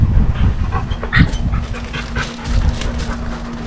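Dog barking outdoors in a backyard under renovation beside a steel building, rough repeated vocal bursts over steady low background noise, fairly close and loud.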